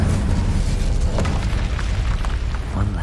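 A Confringo spell explosion in Hogwarts Legacy gives a loud, sustained rumbling boom that fills the scene for a few seconds, with no talking.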